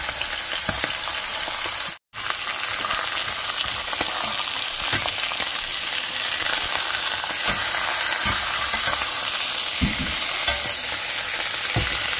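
Goat meat sizzling steadily in a hot pan for a long stretch, with occasional stirring clatter and one brief dropout, no talking.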